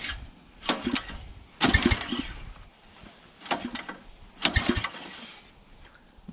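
Gas engine on a log splitter being pull-started by hand, with repeated rasping cord pulls that briefly catch and sputter but fail to fire, four or five tugs in a row up close.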